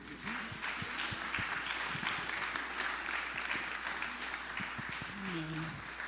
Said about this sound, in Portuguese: Podemos aplaudir Jesus?